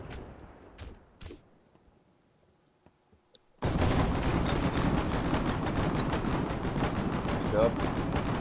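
Gunfire in the video game Drowned Vale Defense, with a few isolated shots and quiet moments and then a sudden dense, loud burst of rapid automatic fire that continues steadily to the end, with speech at times.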